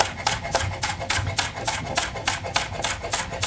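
A knife finely slices scallion on a board, with quick rhythmic close chopping strokes, about four per second, steady and alone.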